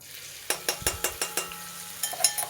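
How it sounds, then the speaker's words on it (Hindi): Onions fry in hot oil in a kadhai for Rajasthani besan gatte curry, a soft sizzle under a quick series of sharp, close clacks as a spoon stirs against the pan. "अब तेल गरम हो चुका है और अब इसमें हमने डालने जा रहे हैं प्याज"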